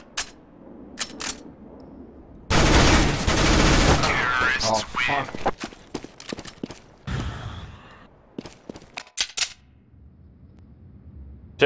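Desert Eagle pistol shots ring out in a Counter-Strike match, a loud burst of sharp cracks followed by several more separate shots and clicks, with a player talking between them.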